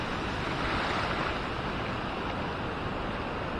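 Ocean waves at Maspalomas, Gran Canaria, on a calm windless morning: a steady broadband wash of surf with no distinct breaks, even and moderately loud throughout.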